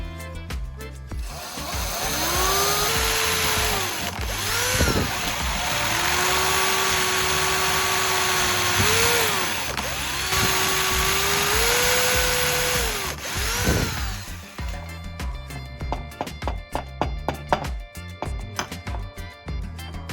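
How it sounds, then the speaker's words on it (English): Power drill boring holes into a wooden block, with the motor whining at a sustained pitch through several bursts that dip as the bit bites, then stops, followed by clattering handling noises. "Next, drill the 4 holes at the points you just marked."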